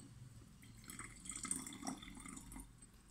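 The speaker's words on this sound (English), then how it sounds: "first we need to add 50 milliliters of silver nitrate solution." Silver nitrate solution is poured into a glass flask, a faint, brief trickle and splash of liquid close by in a quiet room.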